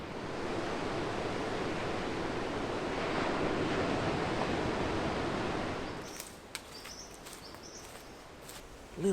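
Ocean surf heard from a cliff's edge on a Tasmanian hike, a steady broad wash of waves with wind noise for about six seconds, then dropping away to quieter ambience with faint birdlike chirps.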